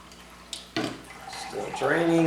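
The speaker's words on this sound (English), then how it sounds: "Still draining." Water drains from bottles through compression socks, splashing and trickling into a basin after a short thump, while a voice talks over the steady flow.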